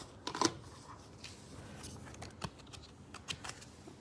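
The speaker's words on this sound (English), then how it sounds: "These are so big, they're harder to shuffle." Large tarot cards being shuffled by hand in quiet, soft papery riffles and taps, with a sharper flurry near the start and scattered light clicks after.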